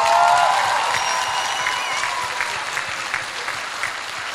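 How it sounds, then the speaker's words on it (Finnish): An audience applauds a choir, dense and close clapping that starts strong and slowly thins over a few seconds, with no voices standing out. "Aplodi heille."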